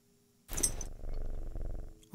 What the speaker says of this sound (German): Oh, guckt mal, wie sie schnurrt.